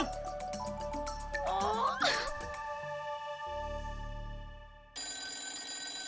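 A telephone rings with a bright electronic trill, repeating in bursts with a short pause, with faint muffled sounds underneath.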